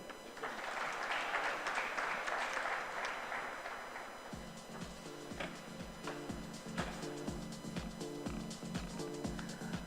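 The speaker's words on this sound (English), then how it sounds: "Please extend a round of applause for our President of ZF Region India, Mr. Ak" An audience at a ZF Region India corporate event applauds steadily and loudly for about four seconds, then rhythmic music with a heavy beat starts and plays over the fading clapping.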